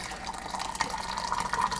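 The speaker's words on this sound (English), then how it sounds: "So let's pour the rest of this stuff in here. Nice hot water." Hot water pours into a coffee mug of black coffee, a soft, close trickling fill that runs steadily for a couple of seconds without talk.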